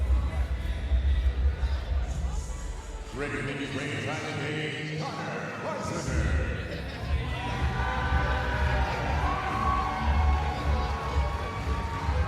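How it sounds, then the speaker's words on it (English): A crowd roars and cheers at an APFC fight night in Milwaukee, a sustained loud wash of voices throughout, swelling at times, with a commentator talking over it. "The Milwaukee crowd getting loud for Connor Beiswinger"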